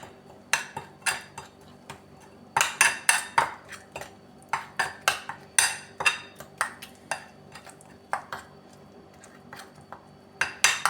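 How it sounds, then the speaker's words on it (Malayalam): A metal spoon clinks and scrapes against a bowl while garam masala and lemon juice are stirred together, with irregular sharp taps in quick clusters, close and clear over a quiet background. "1/4 സ്പൂൺ ഗരം മസാല, ചെറുനാരങ്ങ ഒരു പകുതി പിഴിഞ്ഞത്. നന്നായി മിക്സ് ചെയ്തെടുക്കാം."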